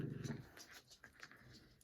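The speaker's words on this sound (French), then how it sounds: "Le petit chien qui a entendu quelque chose." A small dog growls faintly at a distance in a quiet room, with low rumbling bursts at the start followed by softer whimpering noises.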